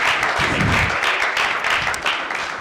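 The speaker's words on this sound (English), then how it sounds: "Give him another round of applause." Steady audience applause fills a school debate hall, dense and continuous for a few seconds at moderate loudness with no talk over it.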